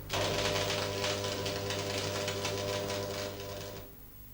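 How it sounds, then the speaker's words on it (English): A steel T-joint is tack welded with an electric arc, giving a steady, close buzzing crackle that holds evenly for nearly four seconds and then cuts off abruptly. "you can hold the pieces in place while you tack weld them"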